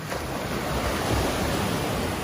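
Ocean surf on a Dominican beach washes in a steady, broad roar with a touch of wind, continuous and fairly close, with no voices over it.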